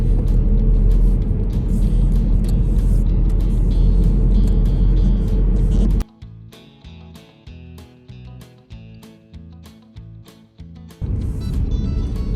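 A car cruises down a dual carriageway near Nuneaton with loud, continuous road rumble. The rumble drops away for several seconds behind a quieter tonal passage, then returns at full strength.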